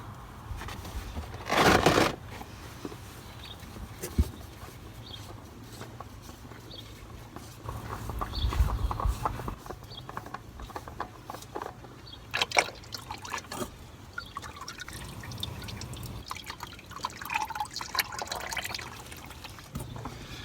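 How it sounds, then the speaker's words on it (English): An oil filter comes off a new Kubota tractor and oil trickles and drips out, with close clanks and handling sounds over a steady low engine-room hum and no speech. "I'm going to pull the oil filter off now so I can put the new one on"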